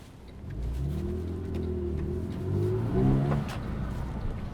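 A Porsche 911 997.1 Carrera S engine revs and accelerates, its rising, falling drone loud and close with harmonic swells and a brief surge near the end.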